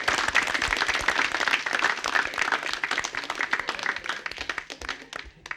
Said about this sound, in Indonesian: tepuk tangan buat Indah.